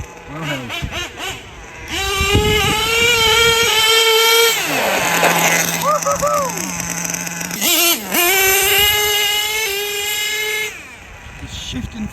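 Nitro engine of an HPI Savage XL RC truck with a 3-speed transmission, running hard on an icy floor, a loud high whine that drops in pitch as it shifts gears and then climbs again, close by with people talking over it.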